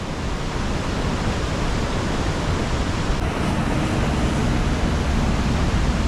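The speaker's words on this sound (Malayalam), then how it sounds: "അവിടുന്ന് വെള്ളം വരുന്ന വരവാണ്" Rushing monsoon floodwater flows beside a village road in Idukki, making a loud, dense and unbroken roar that fills the whole clip with no talk.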